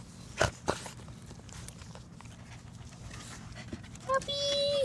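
A dog pants and pads about nearby in a backyard, soft panting and footsteps with a couple of sharp knocks, while a person talks.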